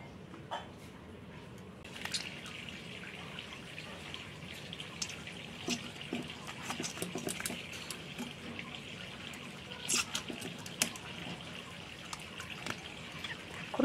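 Fish being rinsed by hand in pond water, with a steady trickling and gentle splashing that continues throughout, punctuated by small drips and occasional sharper splashes, close by and moderately quiet.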